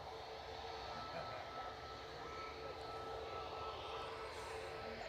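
A TUI Boeing 737 MAX 8 jet at Manchester Airport, bound for Cape Verde, gives off a steady, moderately distant engine rumble and whine with no clear voices over it.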